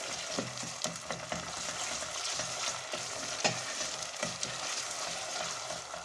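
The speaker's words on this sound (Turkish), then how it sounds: "Böylece salçamızı da kavrayalım." Tomato paste sizzles and fries in a pan while being stirred for a stuffed vine leaf dish: steady close crackling with repeated spoon scrapes and clicks, and no voices.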